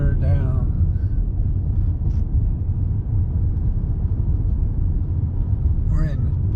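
A car rolls through the historic town of Jim Thorpe, Pennsylvania, with a steady low engine and road rumble close by as voices talk over it.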